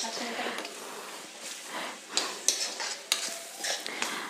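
Tomato masala with coriander powder, for Punjabi-style rajma masala, sizzles in oil in a pan while a spoon scrapes and stirs it in irregular strokes with a few sharp clinks, under a person talking.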